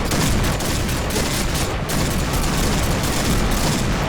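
Sniper rifle gunfire in the Point Blank shooting game, a dense, loud, continuous barrage of shots and booms running the whole time without pause.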